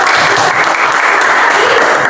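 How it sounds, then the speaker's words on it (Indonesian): A classroom of students claps together after an answer in a Christian religious education lesson, a dense, loud, continuous burst of applause filling the whole moment without a break. "Tepuk tangan untuk jawab."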